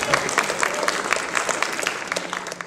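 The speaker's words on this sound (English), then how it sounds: "Yeah, clap again." Audience clapping again at a storytelling event, a dense patter of many hands sustained steadily throughout, fairly close and moderately loud with no one speaking over it.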